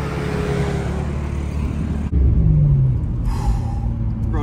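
A 954 whp BMW G80 M3 roars past in second gear, a loud, dense engine and intake rumble that surges then cuts sharply at a shift, followed by a deep lower drone and brief whine as it pulls away on the street.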